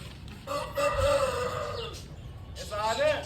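Chickens clucking and a rooster calling in a farmyard, several loud nearby bird calls rising and falling through the clip, with people talking over them.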